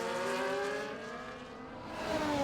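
Two race cars, a Red Bull and a McLaren, run side by side into turn 2 at the Hungary circuit, their engines a steady whining drone with pitch dipping through the corner then rising again as they accelerate out.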